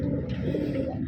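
Rajshahi Giribaz pigeons cooing in a loft, a low continuous throaty murmur from several birds close by, steady throughout the short moment.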